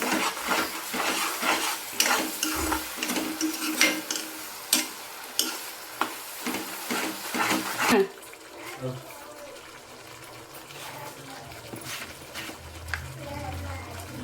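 Paneer gravy masala is stirred and fried in a pan with close scraping and clinking, over a soft sizzle. Someone talks over the cooking, which settles into a quieter simmer partway through.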